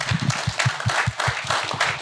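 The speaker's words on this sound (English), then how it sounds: "so a round of applause, please." A technology summit audience applauds panelists after a roundtable: a short burst of distinct, fairly close hand claps in a quick, uneven rhythm.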